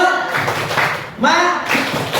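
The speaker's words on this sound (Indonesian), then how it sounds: "Tepuk semangat." A group of adults in a school community session claps a rhythmic 'tepuk semangat' cheer together, with steady clap bursts mixed with voices chanting along, fairly close and loud.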